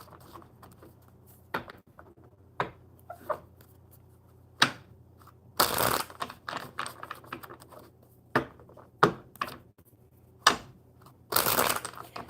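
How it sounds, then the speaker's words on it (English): Tarot cards are riffled and shuffled by hand during a live coffee-club stream, producing short crisp flutters and taps in uneven bursts, with two longer rushing riffles, close and clear over a low steady hum. "Just get these shuffled up real good"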